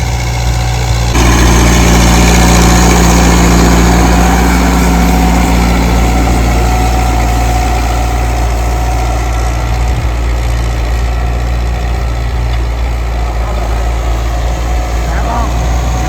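A tractor engine idles steadily and loudly after ploughing a field in a village near the Pakistan–India border, a constant low rumble that starts abruptly and carries on with voices occasionally heard over it.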